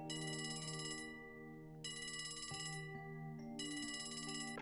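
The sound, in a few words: telephone ringing in video game Trails from Zero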